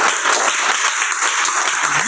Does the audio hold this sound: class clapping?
yes